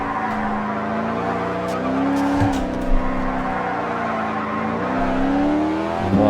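A race car slides out of a hairpin in TOCA Race Driver 2, engine roaring and pitch bending as tires squeal and skid, loud and up close with a brief thump partway through.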